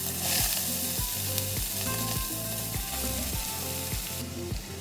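Carrots sautéing in ghee over low heat for gajar halwa, a steady close sizzle and frying crackle with a rhythmic series of stirring scrapes throughout, no talking.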